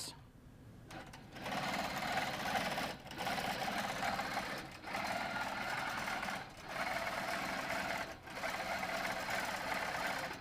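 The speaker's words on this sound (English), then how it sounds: "The machine's going to take that stitch, and then we will go ahead and let this stitch out." A quilting machine stitches an outline design into a quilt, running in steady whirring spells of about two seconds each, with brief pauses between them.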